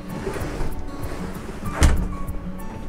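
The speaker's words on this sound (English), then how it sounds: "you have a nice sliding door into your master bedroom" Sliding door into the master bedroom of a 2020 Forest River Surveyor 251RKS travel trailer, a soft rolling slide ending in a single sharp thunk near the end, close and fairly loud.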